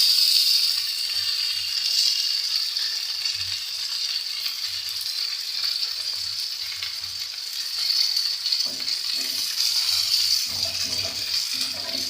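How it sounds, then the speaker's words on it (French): Diot sausages with onions sizzle and fry steadily in a pan, a continuous bright crackling hiss with occasional faint clinks, close and alone without talk. "Ah voilà, là ça commence à bien griller."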